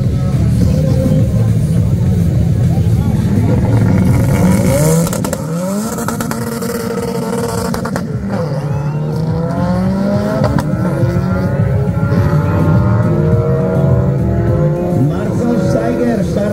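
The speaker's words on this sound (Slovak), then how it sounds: "151, takže Marcel Steiger, solo jazda kafera" A Volkswagen Beetle race car makes a solo run at a racing circuit, its engine roaring loudly and rising and falling through gear changes with some tire noise, close and continuous throughout.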